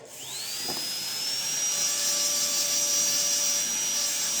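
A dental handpiece whines at a steady high pitch while finishing a zirconia-based ceramic veneer, spinning up at the start and then holding a continuous close, loud tone with no talking.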